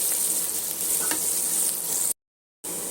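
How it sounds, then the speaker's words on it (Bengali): Chopped onions sizzle steadily in hot oil in a pan for a Bengali fish-roe fritter curry. The frying hiss is loud and even, with a brief stir, then cuts out to silence for half a second before resuming. "এর মধ্যে দিয়ে দেবো কুচিয়ে রাখা পেঁয়াজগুলো। এটা ভালো করে ভেজে নেব।"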